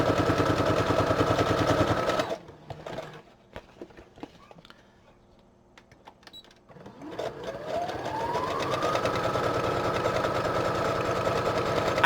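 A sewing machine stitches around a flap at a rapid, even clatter, stops for a few seconds of near quiet with small handling clicks, then whirs back up to speed and keeps stitching, close and clear.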